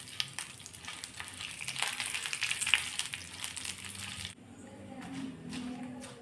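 Dried red chillies sautéing in oil in a pan, a busy crackling sizzle with frequent small pops that suddenly turns quieter and softer partway through.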